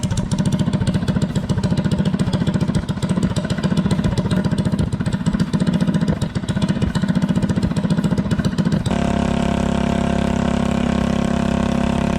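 A Predator 212 minibike engine fitted with a header pipe exhaust runs steadily and loudly at a fast, rattling idle, its tone shifting to a smoother, lower drone near the end.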